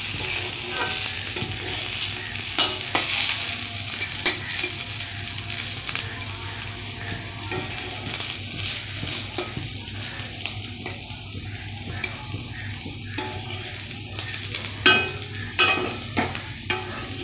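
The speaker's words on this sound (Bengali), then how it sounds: "এদিকে আমি রান্নাঘরে চলে এসেছি আলু আর কারকল ভাজবো বলে।" Potatoes and kakrol fry in a pan in a home kitchen with a loud, steady sizzle, broken by repeated scraping and tapping from stirring; no voices are heard.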